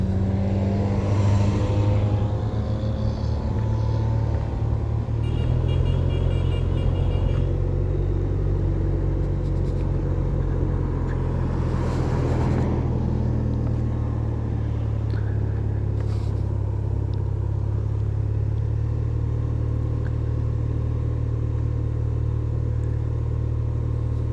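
Motor traffic on the road during a national championship cycling road race: a steady, loud engine rumble that runs throughout, with passing swells over it and no clear speech.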